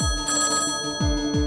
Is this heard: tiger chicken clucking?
no